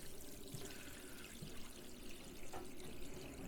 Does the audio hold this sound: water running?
yes